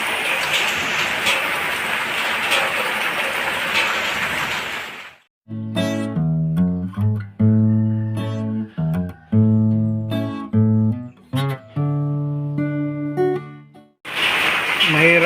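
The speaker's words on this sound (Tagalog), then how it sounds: "Mahirap magsaing na ganito pag naabutan ng ulan." Rain falls steadily in a dense hiss where rice is cooking over an open fire. The rain drops out for a long stretch of tonal music and returns at the end.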